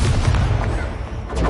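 An Incendio fire spell cast in a Hogwarts Legacy duel erupts as a loud, booming, fiery blast that fills the short moment with dense, rumbling noise.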